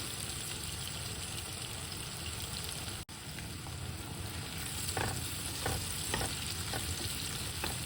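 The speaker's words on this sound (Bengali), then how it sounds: "তো এবার দুই মিনিট আমি পেঁয়াজটারে কিছু তেলের মাঝে ফ্রাই করে নিচ্ছি" Onion frying in oil in a pan for a prawn and greens dish, a steady close sizzle throughout with soft stirring scrapes toward the end.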